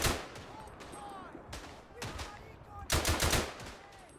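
Machine gun fire in the World War I shooter Verdun, with sharp bursts of shots at the start and middle and a louder rapid burst near the end, plus distant gunfire between them.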